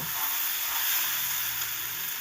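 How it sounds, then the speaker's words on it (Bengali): Cumin and coriander powder frying in a pan for a fish chorchori, a soft, steady hiss and sizzle heard close and fairly quiet, with no voices. "এক চামচ পরিমাণ জিরের গুঁড়ো আর হাফ চামচ ধনের গুঁড়ো মশলাটা দিয়ে এবার চেড়ে একটু ভেজে নেব"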